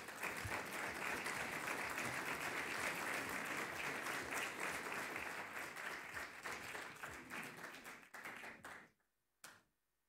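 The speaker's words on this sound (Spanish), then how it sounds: "recibimos a todos ellos con un aplauso." A seminar audience at a finance event claps as participants are welcomed: loud, dense applause from many hands that gradually thins and stops, followed by one brief late clap.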